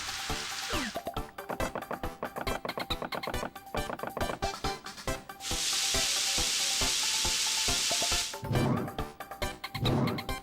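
Food sizzling and stirring in a cooking scene from the Paper Mario: The Thousand-Year Door video game, with rhythmic scraping clicks followed by a loud, steady frying hiss and more stirring, with no speech.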